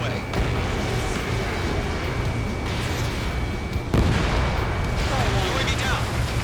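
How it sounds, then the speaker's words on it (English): In Ace Combat 7 a missile launches and strikes its target, making a loud rumbling roar with a sharp burst near the middle over continuous jet noise. "Mage 2, missile away."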